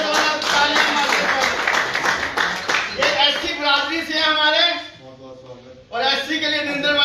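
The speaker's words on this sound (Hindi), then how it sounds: "पंच विनोद कुमार जी का जोरदार तालियां मारते स्वागत" Crowd at a BJP joining event in Trikuta clapping loudly to welcome a new party member, a dense burst of applause that fades briefly near the five-second mark before surging again, with a voice speaking over it.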